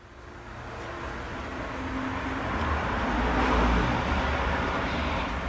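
A heavy vehicle rumbles past on a highway in Costa Rica, heard from a house nearby. The low engine roar swells toward the middle and then eases off, with no voices.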